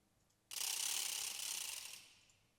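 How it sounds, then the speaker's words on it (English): A single percussion rattle from the ProjectSAM Lineage Percussion sample library gives a soft, dry, bright shake that swells and fades over about two seconds, alone and fairly quiet. "this has got a really, really cool rattle"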